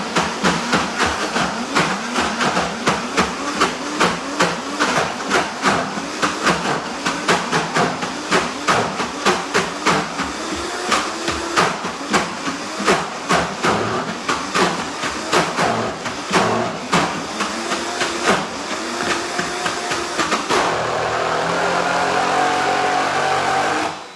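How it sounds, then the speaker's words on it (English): A blender whirs loudly as it purees a mushroom and nut mixture into a paste for a Christmas nut loaf. Its motor carries a rapid rhythmic pulsing, then settles into a smoother, steady roar near the end before cutting off. No one speaks. "Don't tell me my blender blew up on me."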